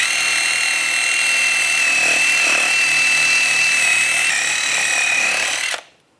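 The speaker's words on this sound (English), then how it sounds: "I'm just going to use a wire brush." A wire brush on a power tool scours the brake hub surface of a 2010-2014 Volkswagen GTI, a steady, loud, high-pitched whirring grind held for several seconds before cutting off abruptly.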